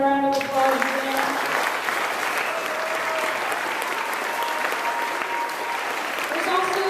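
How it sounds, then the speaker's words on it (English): An audience at a school Christmas drama breaks into sustained applause, loud and even throughout, with a voice speaking briefly at the very start. "So can we give them a round of applause again?"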